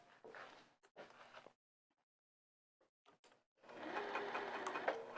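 A sewing machine stitches narrow binding onto a small heart-shaped potholder, running in two short bursts, pausing in near silence, then resuming in a steadier, louder run of stitching.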